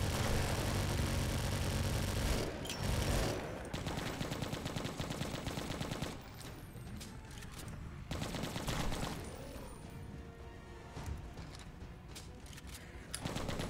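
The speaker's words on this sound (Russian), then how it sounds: "Надеюсь, я сейчас пулемет настреляю на самом деле." Machine gun fire rattles almost continuously in the Left to Survive zombie shooter game, loud dense bursts with short gaps and overlapping shots, no talking.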